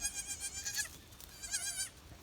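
Goats in a small farm herd with newborn kids bleat twice, loud and close, with a quiet gap between the two calls and no voices.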